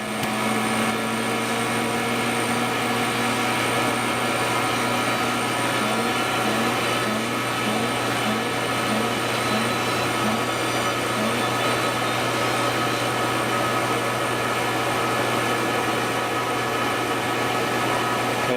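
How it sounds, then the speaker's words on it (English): A vacuum pump evacuates the A/C system of a 2004 Ford F150, running as a loud, steady mechanical drone with a constant hum and no pauses for the whole stretch. "And we are going to vacuum and charge on both sides."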